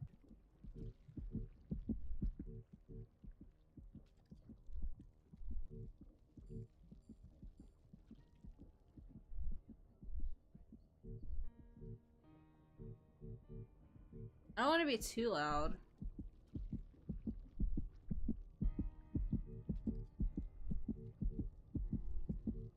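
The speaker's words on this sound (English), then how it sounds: "Okay, Heartbeat, calm the fuck down." A video game plays a heartbeat sound effect, a steady series of low, throbbing double thumps that repeat for over twenty seconds while someone talks quietly over them.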